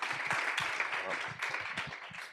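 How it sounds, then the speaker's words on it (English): Audience applause at a growth summit conference, a dense steady wash of many hands clapping at moderate level for a couple of seconds with no talk over it. "let's give Nicholas and James a round of applause"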